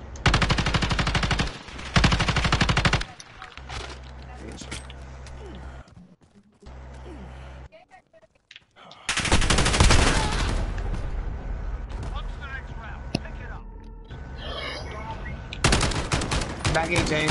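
Fast automatic bursts from an M13 submachine gun in a video game, loud, close crackling strings of shots broken by a short quiet stretch, then continuing with dense fire and in-game booms.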